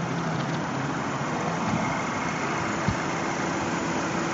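A car engine idling steadily after running for at least 10 or 15 minutes, close and continuous, with a constant low hum and one brief knock near the end.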